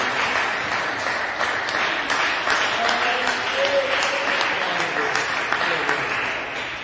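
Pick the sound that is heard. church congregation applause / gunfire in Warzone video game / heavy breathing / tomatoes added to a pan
church congregation applause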